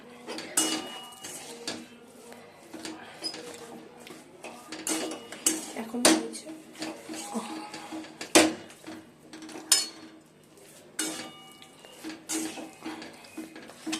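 Semolina, flour, jaggery and milk mixed together in a pot with a utensil, giving repeated clinks and scrapes against the metal at an irregular pace, close by, with faint voice in the background.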